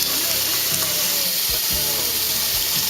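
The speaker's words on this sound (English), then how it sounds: "Get some hot water." A kitchen tap runs hot water, meant for proofing yeast for pizza dough, in a steady, loud, close rush that lasts throughout with no talk.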